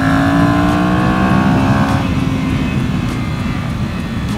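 Ducati Monster motorcycle engine at high revs, a loud steady droning whine that holds its pitch, then settles into a rougher, lower roar as the bike rides on a winding Spanish road.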